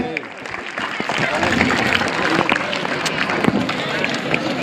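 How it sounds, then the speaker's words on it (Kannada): Loud, sustained applause fills an outdoor pre-university college sports meet as the sports torch is handed over, a dense crowd clapping mixed with a voice speaking over it. "ಜೋರಾದ ಚಪ್ಪಾಳೆ ಇವಾಗ"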